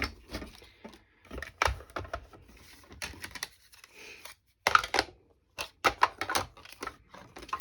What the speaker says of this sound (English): And then I'm going to die cut that out.